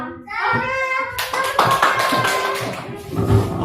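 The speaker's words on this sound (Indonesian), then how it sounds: "Tepuk tangan untuk kita semua" Hand clapping from a group in a classroom lesson setting, close and fairly loud, with a voice audible at the start before the clapping builds.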